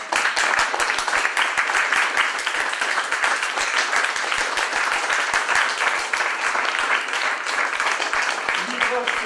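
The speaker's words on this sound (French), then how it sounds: "Il faut vous applaudir." Sustained audience applause after a historian's hour-long talk at a library event, dense and steady with many hands clapping at once, loud and continuous throughout.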